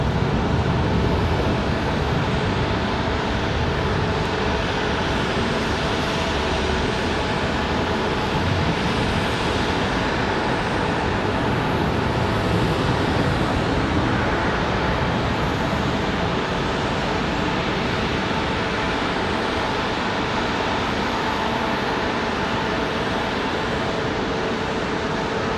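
An American Airlines Airbus A321 jet arriving at Raleigh-Durham airport from Charlotte, a loud, continuous engine roar that holds steady throughout, close and dominant, with no voices.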